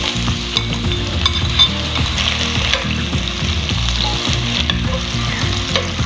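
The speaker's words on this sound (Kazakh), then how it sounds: "Енді оған пиязымызды салып қуырамыз." Chopped onions sizzle and crackle steadily in hot oil in a pan, a loud, continuous frying hiss with small bursts of spatter and no talking over it.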